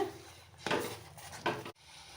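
Urad dal kali with cardamom powder is stirred in a pot, a ladle scraping and knocking against the vessel in a few close, soft strokes with no talking.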